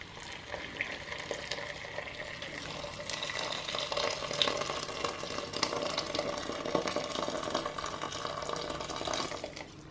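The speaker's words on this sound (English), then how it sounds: "I'm now going to add in some boiling water from the kettle." Boiling water from a kettle poured onto drained potatoes for a sweetcorn and chilli soup, a steady close splashing and gurgling pour that runs without a break for the whole stretch, with no talk over it.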